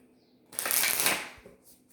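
A deck of tarot cards is shuffled in one brisk riffle lasting about a second, crisp and close, followed by a few faint taps as the cards settle.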